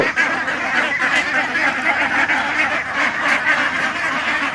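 A flock of farm-raised ducks quacking continuously and densely, many calls overlapping at steady loudness with no pauses.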